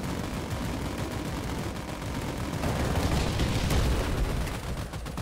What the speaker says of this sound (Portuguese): Esse canhão é bom, só que ele erra muito.